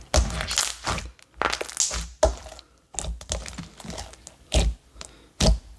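Super inflating slime pops sharply again and again as it is poked, giving loud, close crackling snaps in irregular bursts with short quiet gaps between them.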